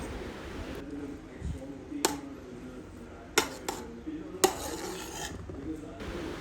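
A metal spoon scrapes and clinks against a pot while Thalassery dum biryani rice is stirred and levelled, soft rubbing punctuated by three or four distinct sharp clinks, close but quiet under low background hiss.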